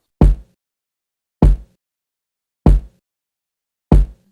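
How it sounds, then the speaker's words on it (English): Two layered, EQ'd kick drums for a boom bap beat hit four times alone at an even, slow pace, each a short punchy thump with a deep low body and quick decay, separated by silence. "after the EQs, both of the kicks layered sound like this."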